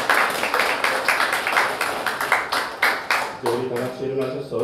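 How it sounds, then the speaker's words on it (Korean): Church congregation claps in praise during a worship service, a run of distinct, fairly loud rhythmic claps, then a held sung or spoken tone rises near the end as the clapping thins. "우리 하나님께 영광의 박수 올려드리겠습니다."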